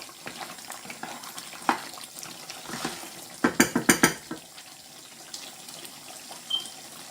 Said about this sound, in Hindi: अब इसको 10-15 मिनट के लिए मैं अच्छे से भूनूंगी